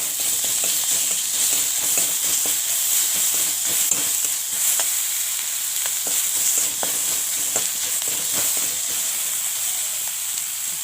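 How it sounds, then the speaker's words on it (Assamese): Ginger-garlic paste sizzles and fries in a pan for an Assamese soybean and raw banana curry, a steady close hiss broken by regular scraping clicks of stirring throughout. "ভাজি লৈছোঁ ভালদৰে"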